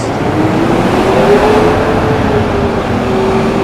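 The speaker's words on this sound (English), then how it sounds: "Man, that truck could not get any louder." A loud truck engine roars steadily close by as it passes on a New York City street, a heavy droning rumble that holds for a few seconds with no voices.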